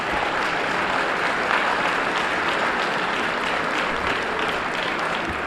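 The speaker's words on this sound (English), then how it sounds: "let me hear just by a round of applause" Steady, full applause from a crowd at a community debate in Harlem, loud and unbroken for several seconds with no voices standing out.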